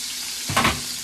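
Pork pressed into a hot pan to sear its second side gives a short sizzling burst that swells and fades within about a second, close and moderately loud over a faint hiss.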